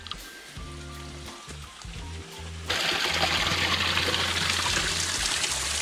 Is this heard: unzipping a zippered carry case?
no